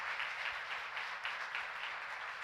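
A church congregation applauding during a sermon, a dense steady wash of many hands clapping together, heard from a moderate distance and without talk.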